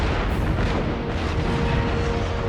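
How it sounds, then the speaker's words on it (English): Artillery bombardment from three 24-pounder batteries in the video game Empire Total War, a loud, continuous roar of overlapping cannon booms with no break and no talk. "right now I have an artillery bombardment going on. I have 3 24-pounder batteries."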